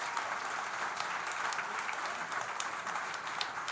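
Live concert audience at a WDVX Big Plate Special show applauding the performer, a dense, continuous wash of many hands clapping, steady and fairly distant, with no voices over it.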